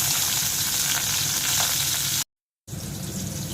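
Whole cumin seeds and chopped onion fry in hot oil, a steady close sizzle that runs unbroken, cuts out briefly to silence, then resumes just as loud.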